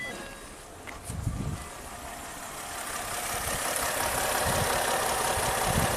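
A Ford Fusion engine starts and runs with a misfire, a steady mid-pitched mechanical hum that grows a little louder and rougher after a brief start-up burst, with irregular low thumps.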